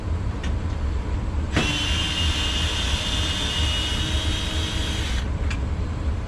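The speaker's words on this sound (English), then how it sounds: "Sorry about the heater noise." A small space heater switches on and runs with a steady whooshing hum for several seconds, then cuts off, with faint clicks at start and stop, indoors during a washer repair.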